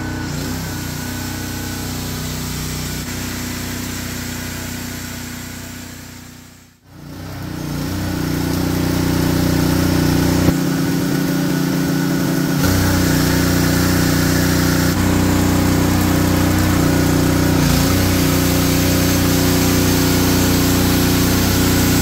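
A loud, steady drone from a small portable TK160 generator engine running continuously, briefly dipping and then surging back with a harder, strained roar under high-amperage power-tool load that holds steady.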